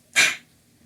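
A single short sneeze bursts out sharply and fades within half a second against a quiet room background.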